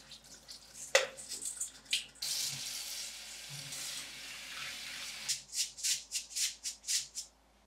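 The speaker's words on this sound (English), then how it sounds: "we're going to strain this using a sieve to make sure all the water is drained." Washed sushi rice drains through a sieve, with water splashing and trickling in uneven bursts, then a run of rhythmic pulses from the sieve being shaken. Close and fairly quiet.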